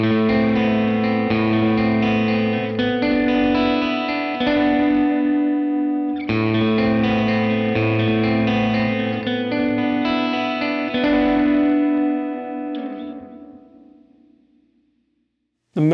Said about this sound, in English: here's a medium length delay with some spring reverb mixed in